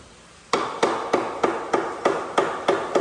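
Hammer blows while a baby duck cage is built, about nine sharp strikes in a steady rhythm, loud and close with no talking.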